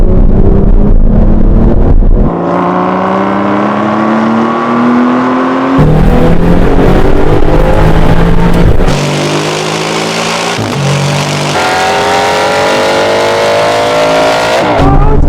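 Aston Martin racing cars in a roll-on drag race, engines roaring loud and close as they accelerate, pitch climbing through each gear with sharp shift breaks.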